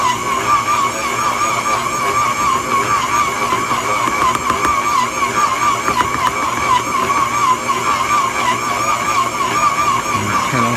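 A stand mixer kneads buttermilk dinner roll dough in a bowl, giving a loud, steady motor whine with a constant churning drone that runs unbroken throughout, no voices over it.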